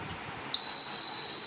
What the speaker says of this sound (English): You can see the buzzer is on